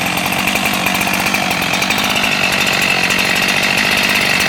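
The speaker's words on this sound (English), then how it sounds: "This is a powerful saw." A Holtzformer G372XT chainsaw with a 24-inch bar runs at high revs, a loud, steady, buzzing two-stroke roar held close and continuous throughout.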